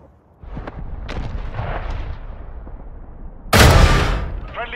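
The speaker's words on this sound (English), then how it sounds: "Launched a cruise missile." Cruise missile launch in Modern Warfare 3, heard over rumbling battle noise and scattered distant gunfire, ending in a sudden loud roaring blast that trails off, with voices talking underneath.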